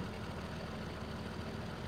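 A Fendt tractor engine idles in Farming Simulator 19, a steady low rumbling drone that holds even and close throughout with no voices.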